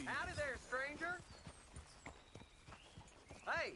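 Hooves clip-clop at a walking pace in Red Dead Redemption 2, close and rhythmic, with a horse's whinny at the start and again near the end.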